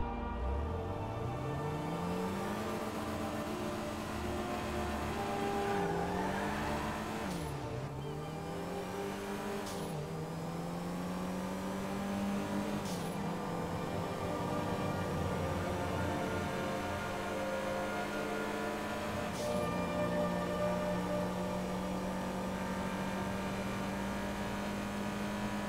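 A fully performance-upgraded Oracle XS in GTA Online accelerates hard, engine pitch climbing through the gears with sharp drops at each shift before settling into a steady high drone, loud and alone.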